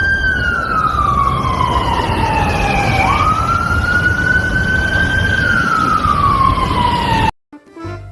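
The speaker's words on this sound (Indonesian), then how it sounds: "Wadidaw, yang ini mobil pemadam kebakaran." Toy fire truck siren wailing loudly and close, a single rising and falling electronic tone that sweeps down, jumps up and glides slowly back down before cutting off abruptly near the end.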